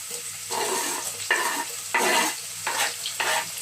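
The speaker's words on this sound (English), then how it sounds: "So now I'm going to add onions." Chopped onions frying in a pot for Nigerian jollof rice, with loud, steady sizzling broken by repeated bursts of stirring and scraping at a close, even rhythm.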